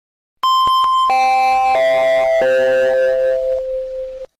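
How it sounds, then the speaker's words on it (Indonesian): School entry bell in an animated drama, a loud electronic chime stepping down through several sustained tones over about four seconds, clean and alone. "Bel tanda masuk telah berbunyi."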